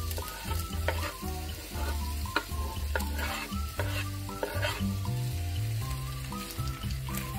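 Onion and garlic fry in about four spoonfuls of hot olive oil in a skillet, a steady close sizzle with frequent spatula scrapes and knocks against the pan, no voices.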